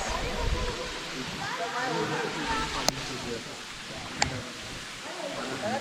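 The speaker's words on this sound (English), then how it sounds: "This is the Devkund Waterfall." Constant rushing roar of Devkund Waterfall in India fills the scene, steady and dense, with a couple of sharp clicks and faint talk beneath.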